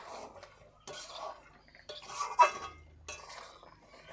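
A spoon stirs and mixes chicken biryani marinade with sour yogurt in a pot, making soft, irregular scraping and clinking that comes and goes over several seconds.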